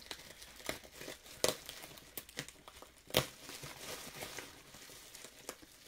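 Crinkling and tearing of tape and packaging, with sharp rips and crackles at irregular intervals, close up and moderately loud, no voices.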